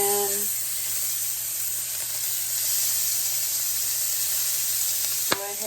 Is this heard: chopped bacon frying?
yes